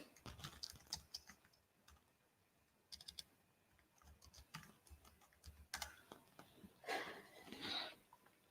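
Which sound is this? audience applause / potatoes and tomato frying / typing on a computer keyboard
typing on a computer keyboard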